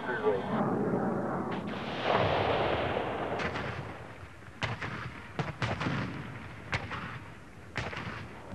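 Zuni rockets fired from a diving F-8 Crusader in a ground-support strike, heard as a series of sharp bursts and booms over a loud roaring rush, with a voice talking beneath.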